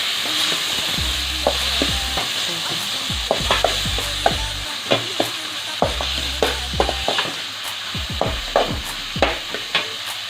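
Tomato sautéing with softened fried onions in a pan gives a steady sizzle with repeated spoon stirs and scrapes throughout, close and clear, with no talk.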